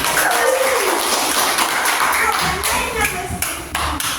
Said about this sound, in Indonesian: tepuk tangan dulu, Mas